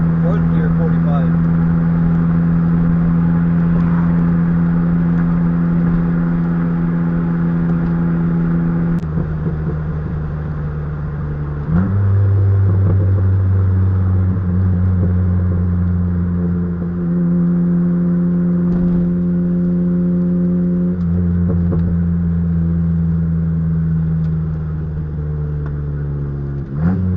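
Mitsubishi car with a 1.5L turbo engine and a rewelded exhaust, droning steadily from inside while driving, its pitch stepping up and down through gear changes and accelerations, loud throughout.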